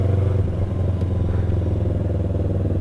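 Motorcycle engines rumble and clatter continuously and fairly loudly on a Sunday morning group ride through the town of Teuku Umar.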